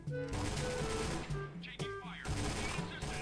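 Rapid gunfire in the mobile shooter Point Blank Strike, a busy rattle of repeated shots running throughout under game music, with someone talking over the action.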